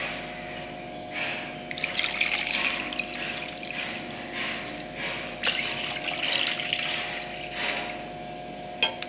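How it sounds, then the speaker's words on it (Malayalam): A glass of water poured into a pan for Tirunelveli halwa, a steady splashing and trickling stream close by with a faint electrical hum underneath and no one talking. "ഇനി ഇതിലേക്ക് നമുക്ക് 1 ഗ്ലാസ് വെള്ളം കൂടി ചേർത്ത് കൊടുക്കാം"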